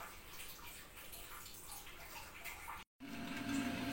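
Water poured into a wet grinder while rice is ground for idli batter, a faint steady trickle and splash with the grinder's low churning underneath.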